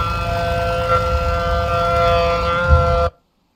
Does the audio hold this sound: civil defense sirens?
yes